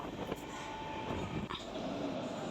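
A train rolls steadily through a forest, a continuous rumble of wheels and carriages heard from inside, with a faint squeal rising near the end.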